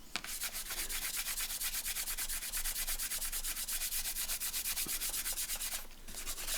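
Steady rapid rubbing of dried Collall glue being worked off thick paper, a close, continuous scrubbing texture with quick repeated strokes and a short pause near the end.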